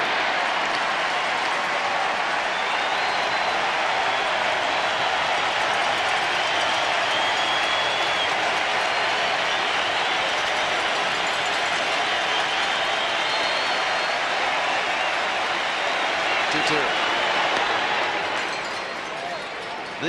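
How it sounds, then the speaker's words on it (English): A large baseball stadium crowd at a 1995 playoff game between the Yankees and Seattle roars and cheers continuously for twenty seconds, a dense, loud wash of noise with a brief sharp peak near the end. "This is a crowd which obviously is accustomed to cheering for Randy Johnson"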